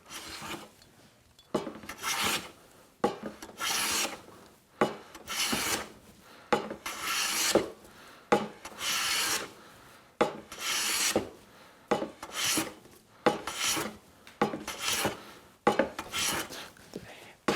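A hand saw cuts a bevel in wood in a woodworking shop, its rasping strokes coming in a steady back-and-forth rhythm of about a dozen pulls and pushes, close and alone.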